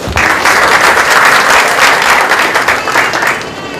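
A crowd applauds volunteers at a Pakistan Day community breakfast in Mississauga, a dense, steady burst of many hands clapping at close range that holds for the whole stretch and eases slightly at the end.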